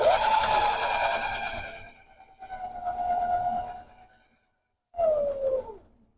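A sewing machine stitches a quilt-as-you-go mug rug in three bursts of steady whirring, the last one brief, with short pauses and near-silence between them and no talking.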